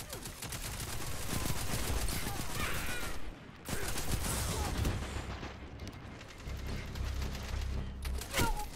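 Rapid bursts of gunfire from a gun in Destiny 2, loud and close, in repeated volleys with a brief pause between them and heavy low-end booms, no talk over it.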